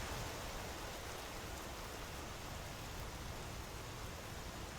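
Rain falling in the survival video game Vintage Story, a dense, even hiss of steady rainfall throughout, moderately loud and uninterrupted, with no voices.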